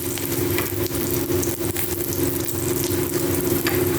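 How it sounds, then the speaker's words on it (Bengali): Crushed whole garam masala and dry chilli frying in hot oil give a loud, dense, continuous sizzle with crackling bursts and a low steady hum beneath, no voices. "ওই তেলের মধ্যে আমি গোটা গরম মশলা থেতো করা দিয়ে দিলাম, আর এর মধ্যে আমি দিয়ে দেবো শুকনো লঙ্কা"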